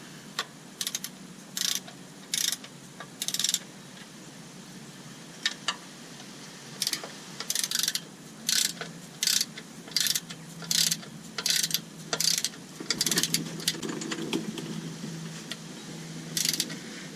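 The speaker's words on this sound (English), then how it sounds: "if I'm doing the torque wrench thing, I might as well" A torque wrench ratchets on 12 mm bolts during clutch work on a 2005 Toyota Tacoma with a manual 2WD transmission, giving short, evenly spaced clicking bursts that repeat steadily and close by.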